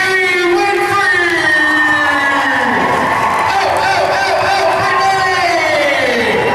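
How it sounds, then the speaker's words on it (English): An audience at an entrepreneur event cheers and applauds as a woman is welcomed on stage, a dense continuous crowd roar with whoops and voices throughout. "let's give her a round of applause, Miss Brittany Winfrey."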